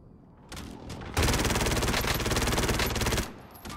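Automatic gunfire in the video game Call of Duty Warzone: a loud, rapid burst of shots runs for about two seconds, with a few single shots before and after it.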